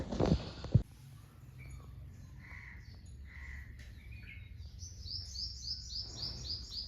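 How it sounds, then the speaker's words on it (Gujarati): Sparrows bathing in a cold rainwater puddle in a village, giving thin, high chirps, sparse at first and then a quick repeated run of tweets near the end, fairly faint over a low outdoor hum after a brief rustle at the start. "તો જો કેવા ચકલા નાય છે,"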